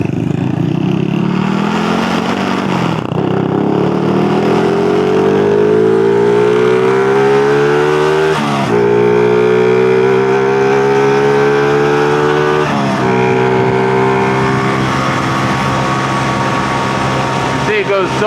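A Honda Super Cub with a 136 cc engine while riding, a loud continuous buzz that climbs steadily in pitch through the gears, with brief dips at each shift and the engine droning throughout.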